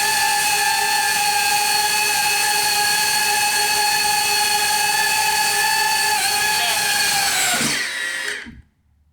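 A DJI Avata 360 FPV drone's propellers whine loudly and steadily up close, a dense high-pitched buzz that winds down and cuts out abruptly as it lands.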